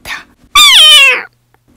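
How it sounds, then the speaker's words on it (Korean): A black cat with a white patch on its chest lets out one loud, drawn-out meow, close and clear, after a brief faint sound and before silence. "고양이는 몸을 일으키며 커다랗게 목청을 울렸다"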